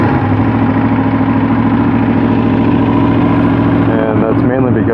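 A 2015 Aprilia RSV4 motorcycle engine with an Austin Racing exhaust idles loud and close with a steady throbbing rumble, as someone talks over it near the end.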